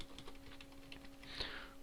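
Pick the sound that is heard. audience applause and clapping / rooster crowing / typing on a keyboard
typing on a keyboard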